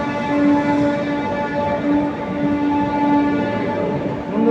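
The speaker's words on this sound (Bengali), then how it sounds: "Rajendranagar Howrah superfast express." Rajendranagar Howrah Superfast Express train heard close by, a steady rumbling run with sustained tonal horn-like hums layered over the rolling noise for several seconds, no talk.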